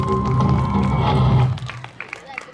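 A stage crowd at a mimicry show applauds and cheers for Mammootty's fans, a loud burst of clapping and voices that fades after about a second and a half.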